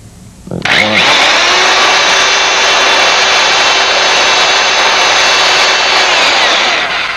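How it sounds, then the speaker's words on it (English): A power drill whirs loudly and steadily for several seconds after a brief knock, drilling pilot holes in a storm door, its high-pitched motor hum holding constant until it winds down. "So let's make some pilot holes."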